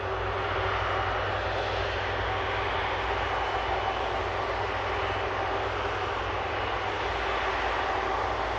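An A330 tanker aircraft taxiing at Manchester Airport: a steady, loud jet-engine roar and whine that holds constant throughout, with no talk.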